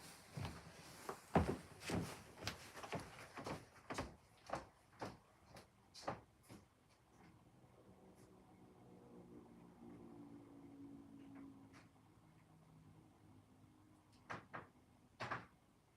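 A door indoors opens and closes amid a quick series of sharp knocks, clunks and rattles, followed by a quieter stretch with faint shuffling, then two or three more clicks near the end; no one speaks.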